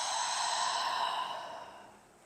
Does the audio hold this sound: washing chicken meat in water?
no